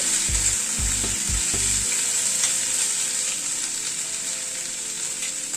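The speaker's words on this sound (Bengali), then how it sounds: "একটু নাড়াচাড়া করে নিলাম রসুন আর কাঁচা লঙ্কাটাকে।" Garlic and green chili paste sizzles steadily in hot oil while being stirred, a continuous close frying hiss with a few low scraping knocks from the spoon early on and no voices.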